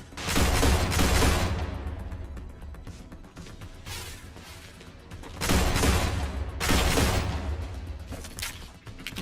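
Pistol gunfire in the sci-fi video game StarRupture: several loud bursts of shots with booming low end, separated by quieter gaps, and no voices.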